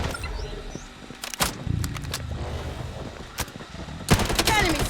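Bursts of gunfire in the shooter game Blood Strike, sharp clustered shots and rapid volleys against a busy game background, with a voice calling out now and then.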